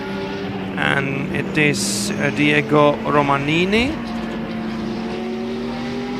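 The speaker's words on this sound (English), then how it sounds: "One of the SCC cars coming into the pits." An SCC race car at the Brno circuit pulls into the pits. Its engine tone rises and then falls away, with harmonics sliding over a few seconds, while a commentator talks over it.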